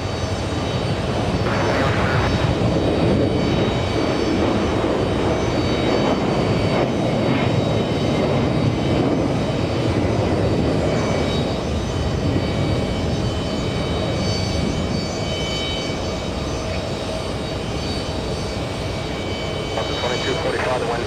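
A Boeing 767 jet roars at JFK airport during plane spotting, a loud continuous engine rumble and whine filling the whole stretch while radio chatter from air traffic control runs underneath.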